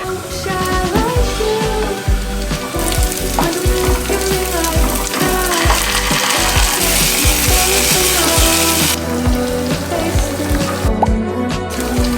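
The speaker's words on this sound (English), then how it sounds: "I am going to be adding the mushrooms in now" Mushrooms frying in a pan, giving a loud, continuous sizzling hiss that swells in the middle stretch, with stirring knocks and music playing underneath.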